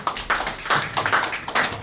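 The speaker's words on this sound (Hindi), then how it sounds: "एक बार जोरदार ताली" Audience clapping at a company's second anniversary celebration, a short burst of uneven applause from a modest crowd that swells and dips over two seconds.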